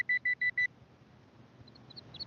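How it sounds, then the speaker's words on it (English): Metal detector searching for a buried nickel-sized target near the surface, giving four quick, evenly spaced electronic beeps, then going quiet apart from faint ground noise. "the way it's beeping back and signaling, it's probably pretty close to the surface"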